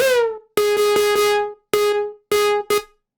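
Chorused synth plucks repeat a short riff, sounding wide and shimmering, with notes ringing out and stopping abruptly.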